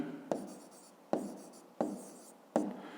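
Numbers written by hand in a fifth-grade maths exercise: four distinct pen strokes against paper, each a sharp tap trailing into a brief scratch, close and quiet, alone.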